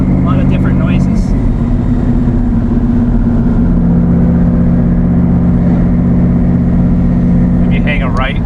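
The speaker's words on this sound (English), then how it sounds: "The nice thing also is the turbo whine. You know, just you can hear the blow-off valves" A 1000 HP Corvette Stingray with a Nelson Racing Engines build drones loudly and steadily on a street drive, engine and turbo noise filling the cabin, with short whooshing bursts like blow-off valves near the start and end.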